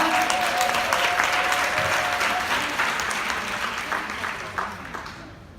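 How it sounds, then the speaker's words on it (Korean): Seminar audience in a hotel ballroom breaking into loud, sustained applause, many hands clapping densely before gradually thinning toward the end. "큰 박수로 환영해 주시기 바랍니다"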